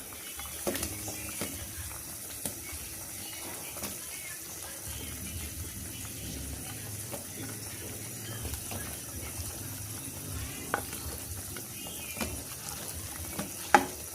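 Okra goes into a pot of salmon sinigang, which keeps a low, steady simmer and bubble going with a few soft clinks and splashes from stirring and handling. No one speaks.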